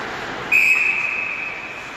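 A referee's whistle gives one sharp, loud blast at an ice hockey game, held for about a second over steady arena crowd noise, then fading out.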